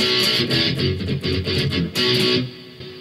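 Electric guitar plays the second chorus of a song with heavy palm muting, giving dense, chugging, driven strums in a steady rhythm with brief pauses between phrases, loud and close with no voices.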